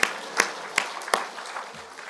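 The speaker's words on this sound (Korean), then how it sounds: "자, 우리 박수 한번 하겠습니다." A church congregation at a Korean New Year's Eve worship service claps in unison, four loud, evenly spaced group claps followed by a quieter tail of scattered hands.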